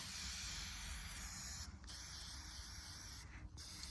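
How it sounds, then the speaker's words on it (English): Black spray paint hisses from an aerosol can outdoors in the wind, a steady close spray broken by two short pauses. "I'm just going to test my spray first."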